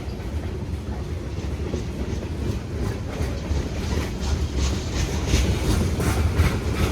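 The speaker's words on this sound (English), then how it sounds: "This is the same train we saw earlier tied down in Rollinsford, New Hampshire." A freight train rolls past on a New England line in New Hampshire, with continuous clickety-clack of wheels over rail joints and a steady rumble that builds slightly as the cars go by.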